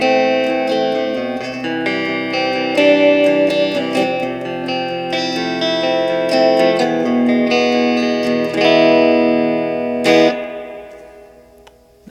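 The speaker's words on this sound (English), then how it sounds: "Now we're going to take the reverb, we're going to put it up about halfway, a little bit under half, and see what we get." Electric guitar played through a Peavey Blazer practice amp with the reverb tank set just under halfway, a series of strummed chords and picked notes ringing with a reverb tail, ending in a decaying chord.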